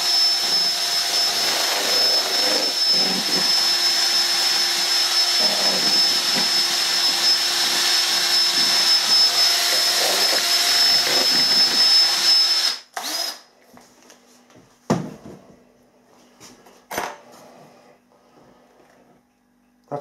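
A Bosch power drill mixing plaster whirs continuously at high speed for about twelve seconds, then stops, followed by a few brief bursts and clanks.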